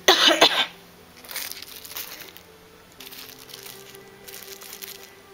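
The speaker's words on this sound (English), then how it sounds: "hopefully my cough will have disappeared" A single sharp cough near the start, loud and close, followed by quiet rustling and faint crinkling sounds.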